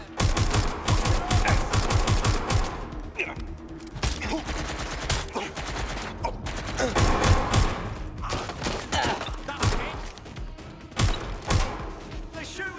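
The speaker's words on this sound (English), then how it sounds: "They're shooting at us!" Dense enemy gunfire in Watch Dogs: Legion, rapid overlapping bursts and cracks crowding together almost without pause for the whole stretch, loud and close, with a brief softer lull midway before the shooting picks up again.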